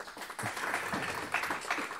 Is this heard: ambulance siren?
no